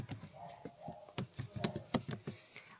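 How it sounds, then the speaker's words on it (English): Quiet, close computer keyboard typing as a username is entered, a short irregular series of light key taps. "Type in the username of yours."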